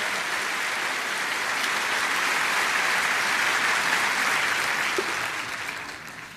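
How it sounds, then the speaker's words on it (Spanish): A church congregation gives a long, full round of applause, dense clapping holding steady for several seconds before tapering off near the end. "Dale un aplauso a Dios y entiende la palabra"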